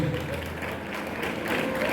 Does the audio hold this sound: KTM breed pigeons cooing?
no